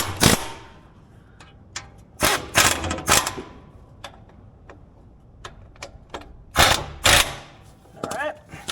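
A small impact wrench loosens the oil plug on a Yanmar excavator in several short, sharp bursts of rattling hammering, separated by quiet clicks and handling noises close by.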